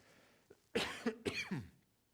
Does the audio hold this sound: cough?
yes